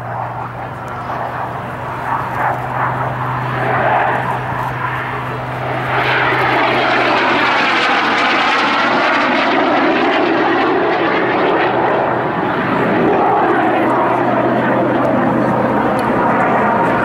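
Jet Provost T3 jet trainer aircraft flying at Abingdon, a loud steady engine roar that swells and sweeps overhead with a rising-falling whine, filling the whole span with no talk.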